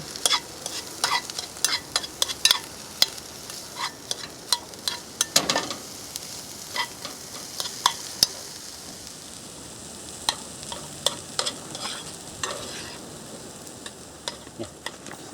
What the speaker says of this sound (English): Just need to soften the onion up.